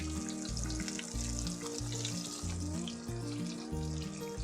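Breaded chicken fried steak sizzles in hot oil after being flipped: a steady, fairly quiet frying hiss running beneath a clear stepped musical melody.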